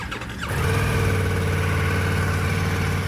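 A Ducati Multistrada V4 Rally motorcycle engine starts and settles into a loud, steady, throbbing idle with a deep low rumble, close by and uninterrupted by speech.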